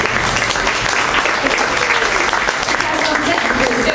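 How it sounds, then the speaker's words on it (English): Loud, packed applause fills the room for Captain Nick and his deck crew, Brittany and Ed, with a crowd clapping continuously and evenly throughout. "let's give a big round of applause for the brave Captain Nick and his wild and wacky deck crew, Brittany and Ed"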